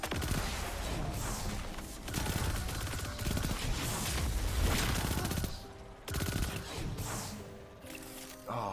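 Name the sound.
weapon gunfire in Destiny 2 video game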